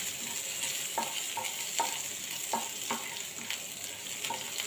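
Small onions and a dried red chili sizzle steadily in hot oil for a street-style chili chutney tempering, with a spoon scraping the pan in regular strokes about every second, no talk.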